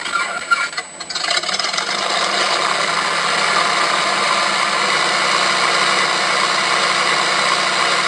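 A small RC airplane engine is started, sputtering briefly, then settles into a loud, steady idle at minimum throttle, a continuous buzzing drone close by with no talking.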